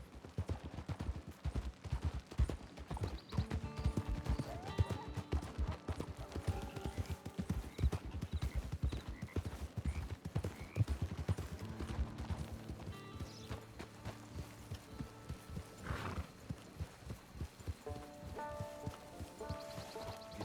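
Horse hooves clip-clop in Red Dead Redemption 2, a steady galloping beat that runs throughout with game music and ambience under it. A few brief louder bursts and tonal cues punctuate the rhythm.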